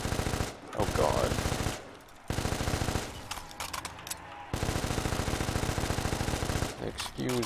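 Scar-H assault rifle in Black Ops zombies, loud automatic bursts in long rapid strings broken by short pauses, close and dominant, with a voice briefly under the firing.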